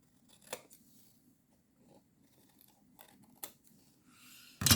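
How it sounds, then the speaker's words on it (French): Scissors snip pieces at a bevel during a candy box craft project, with a few quiet, isolated cuts spaced apart and a louder rustle at the end. "Je vais les couper en biseau"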